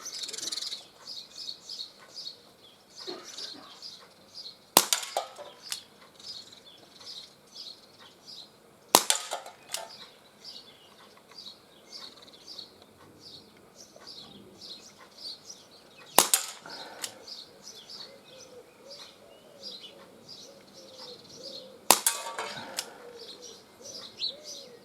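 Gletcher NGT RF air revolver fired outdoors at a target, giving four sharp, widely spaced cracks several seconds apart over a steady background of birdsong and insect chirps.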